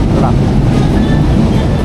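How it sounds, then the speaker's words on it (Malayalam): A metro train passes a station in Manila, a loud continuous low rumble with rail noise and wind buffeting the microphone throughout the brief moment. "ഒരു ട്രെയിൻ പോകുന്നു"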